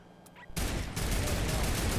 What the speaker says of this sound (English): Keep shooting, Jamie.